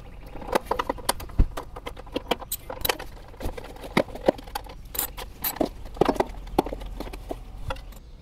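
Metal tools clink and rattle close by while bolts are worked loose from the recoil starter of a Coleman Powermate 5kW generator with a Subaru/Robin engine, a quiet irregular run of small taps, scrapes and jangles with no talk.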